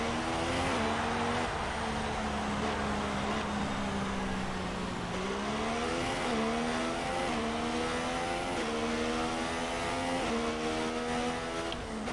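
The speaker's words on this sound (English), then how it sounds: "Jam on the brakes every now and again to keep the heat on." An F1 car in a Canadian Grand Prix video game drones loudly and continuously, its engine pitch dropping as it brakes hard, then climbing again through repeated gear changes.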